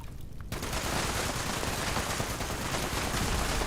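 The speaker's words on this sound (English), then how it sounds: "That explosion can actually kill me." An explosive weapon blast in Fallout 76, a sudden loud burst after a brief quiet moment, followed by a dense sustained crackling rumble that stays loud to the end.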